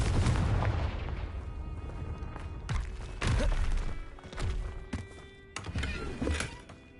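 Confringo blasting spells explode in the game Hogwarts Legacy, a series of deep booming blasts with sharp cracks, four or five bursts spaced irregularly over several seconds amid rumbling game effects.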